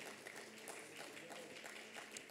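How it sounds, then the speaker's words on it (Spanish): A church congregation applauding during a Spanish-language Wednesday intercession service, a steady wash of many hands clapping at a distance, fairly faint and continuous throughout with no pauses. "Dele el aplauso a nuestro buen Dios."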